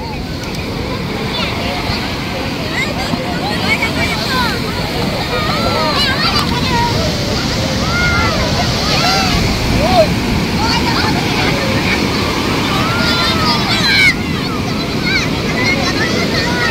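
Sea waves wash up onto the sand at Puri beach in a continuous broadband rush of surf and wind, close and fairly loud, with voices talking over it.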